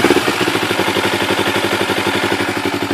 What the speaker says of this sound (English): Just idling a little low.